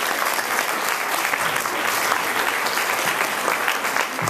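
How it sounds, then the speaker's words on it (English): Audience at an ACLU chapter awards dinner gives a sustained round of applause, dense steady clapping filling the room without pause, loud and close. "I'd just like to give her one more round of applause"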